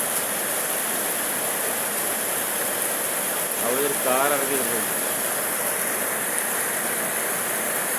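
Heavy rain pours down in a steady, dense roar throughout, with a voice speaking briefly over it midway.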